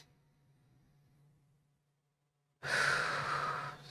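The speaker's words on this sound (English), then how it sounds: "Now, one more deep breath." A single deep breath, drawn in and let out close to the mic during a calm guided meditation, arriving after a short stretch of near-silence as a loud, full rush of air that fills the last second or so.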